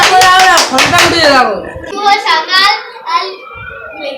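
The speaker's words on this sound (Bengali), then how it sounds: "হাততালি" Clapping among children at a village Independence Day flag-raising, partly buried under loud children's voices talking close by.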